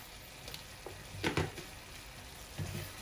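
White chicken curry sizzles steadily in oil in a pan, with a few soft utensil scrapes as it is stirred, close and low in volume.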